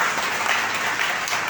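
A congregation at a religious retreat applauds, dense even clapping that holds steady for a moment without any voices.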